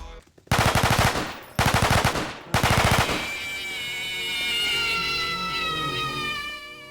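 Automatic gunfire from standard Half-Life 2 weapons in Garry's Mod, three loud rapid bursts in quick succession, then a lingering ringing tail with no voices.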